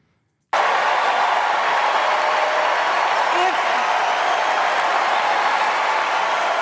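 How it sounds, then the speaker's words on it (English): A large convention crowd at the DNC cheers and applauds, starting abruptly after a brief silence and then holding as a dense, loud, continuous roar of clapping and voices. "But you can hear the crowd."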